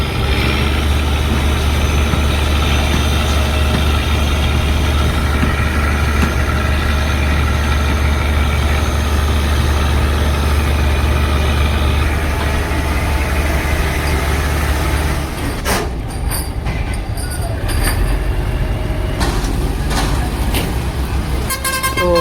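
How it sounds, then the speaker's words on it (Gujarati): A fishing boat's engine drones steadily and loudly throughout as the boat moves, a constant low rumble with a brief horn-like toot and some clatter near the end. "તો જો બોટ જઈ રહી છે ઓલી જગ્યાએ જ્યાં આગળ થોડીક વાર તમને બતાવ્યું એ જગ્યાએ જઈ રહી છે"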